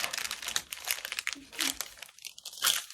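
Paper sewing pattern folded at the dart for a full bust adjustment: close, crisp crinkling and crunching rustles come in short bursts, with a voice talking alongside.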